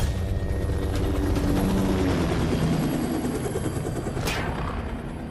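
An Air Force helicopter lands at a temple, its rotor thudding loudly and continuously with a heavy engine roar close by.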